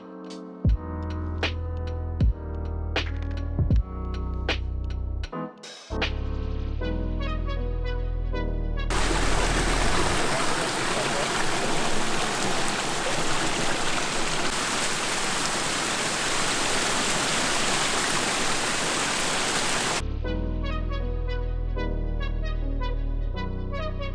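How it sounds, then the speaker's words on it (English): A small waterfall at Green Springs, a Florida spring, gives a steady, full rushing wash of falling water for about eleven seconds, with music playing before and after it. "It's got a little waterfall over there, which is kind of cool."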